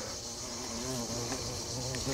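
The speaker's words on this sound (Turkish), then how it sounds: "Arı da bir böcektir, altı ayaklı." A bee buzzes close by in the early morning, a steady, continuous drone with a slight wavering pitch that holds for the whole stretch with no talking.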